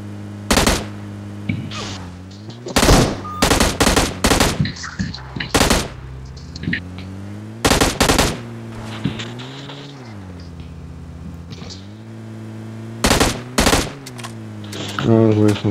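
Bursts of automatic gunfire from the PUBG Mobile battle royale game, loud and close, firing in short clusters of rapid shots separated by pauses, over a steady droning in-game background.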